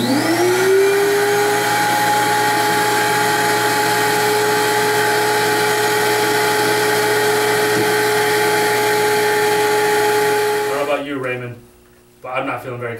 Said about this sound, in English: turn on the vacuum and use the device